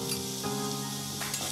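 Green chilies, cumin and garlic sizzle steadily in a hot pan, a continuous close frying crackle with a faint stir, no voices.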